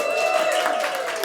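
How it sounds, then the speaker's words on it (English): A round of applause for Benny at an inspirational talk session, brief steady clapping from an audience with a sustained musical tone underneath. "Round of applause for Benny"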